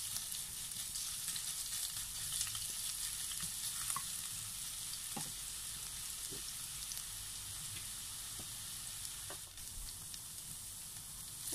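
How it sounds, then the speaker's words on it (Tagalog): Ginger sautéing in cooking oil gives a steady, fairly quiet frying hiss with occasional soft stirring taps and spatters, heard alone without speech. "isosaute po muna natin ang ating ginger"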